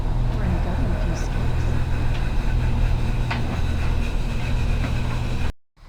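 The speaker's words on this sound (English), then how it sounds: "this is a push train" A push train running in France near Avignon gives a steady low rumble and rolling noise from inside the carriage, with faint clicks and squeaks, before the sound cuts off abruptly.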